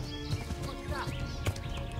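A horse gallops in the medieval video game Kingdom Come: Deliverance, its hooves drumming in a low, rapid rhythm at moderate volume beneath other game sounds.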